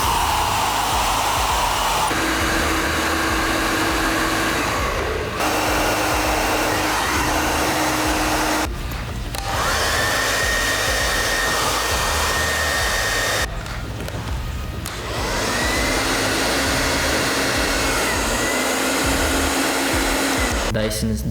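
Dyson Supersonic and a budget $39 hair dryer taking turns in a noise test, each a steady loud whooshing blower roar with brief gaps and pitch shifts between samples, heard alone without talk.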